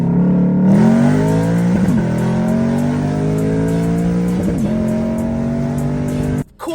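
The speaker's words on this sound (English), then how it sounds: "The Lexus ISF, 416 horsepower, 5-liter V8 with an 8-speed automatic that shifts like a" A 2008 Lexus IS F sports car with a 416-horsepower 5-liter V8 and 8-speed automatic accelerates hard, its loud, close engine note climbing steadily through quick upshifts with brief dips between gears, continuous throughout.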